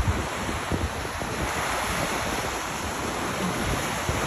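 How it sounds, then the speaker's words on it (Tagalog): Heavy ocean surf at Varadero, Cuba roars steadily with strong wind buffeting the microphone, a dense, continuous wash of crashing waves and no voices. "Ang lakas na ng alon."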